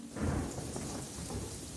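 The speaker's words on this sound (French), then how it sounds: "il se mit à pleuvoir." Heavy rain pours steadily while thunder rumbles low and close underneath, the storm loud and continuous throughout a short stretch of a Cinderella cartoon.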